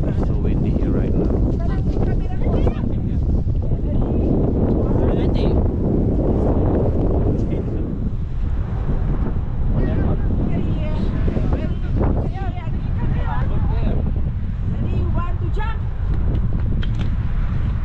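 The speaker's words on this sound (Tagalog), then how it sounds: "So windy here right now." Strong wind in Wellington city buffets the microphone in a constant, loud roaring rumble, gusting and easing over nearly twenty seconds, with voices talking faintly in the middle of the blustery noise.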